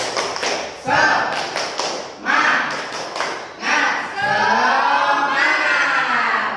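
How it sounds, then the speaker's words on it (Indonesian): A school class does the rhythmic Indonesian 'tepuk semangat' group clap, with bursts of loud clapping and thumping repeating in a patterned beat, close by and mixed with some voices. "Coba tepuk semangat."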